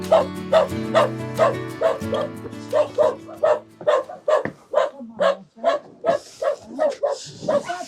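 Several dogs bark in a steady run of sharp, repeated yips and woofs, fairly close and loud, with a low continuous hum beneath and a few whimpering notes near the end.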